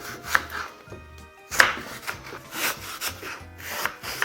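A knife cuts a green apple into small pieces on a board, giving a series of crisp chops and scraping strokes, close and fairly quiet, with short pauses between cuts.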